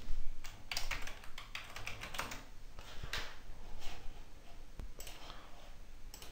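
Computer keyboard typing, a steady stream of close, quick key clicks with irregular rhythm over a faint background hiss, no one talking.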